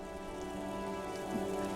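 Rain falls steadily in the video game Disco Elysium, a soft, continuous patter layered over a low sustained ambient drone, evenly quiet from start to finish.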